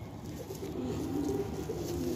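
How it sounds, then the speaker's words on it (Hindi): Soft repeated cooing of a pigeon perched on a rooftop, close and gentle, continuing alone without speech. "ये जीरिया कबूतर है,"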